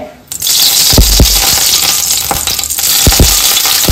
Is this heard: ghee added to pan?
yes